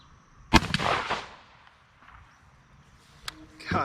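A Beretta A400 Xtreme Plus shotgun fires a single 3.5-inch heavy metal shell outdoors at a 40-yard pattern test; one sharp, loud blast rings into a decaying tail, followed later by faint metallic handling clicks.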